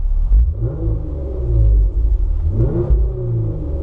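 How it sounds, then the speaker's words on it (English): A 2018 Jeep Wrangler JKU engine idles with a deep rumble, then revs up briefly a couple of times, loud and close, with no talking. "I'm gonna give it a little rev"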